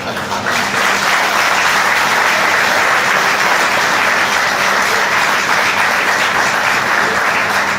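Audience applause at a company's 25th anniversary ball fills the room, a dense, steady wash of many hands clapping, loud and sustained for the whole stretch.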